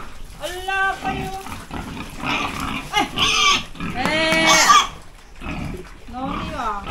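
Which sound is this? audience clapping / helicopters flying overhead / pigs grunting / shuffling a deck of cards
pigs grunting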